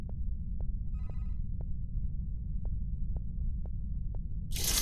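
An in-game telephone in a furry horror video game rings with short, evenly spaced electronic chirps over a heavy low rumbling drone, ending in a sudden burst of harsh noise.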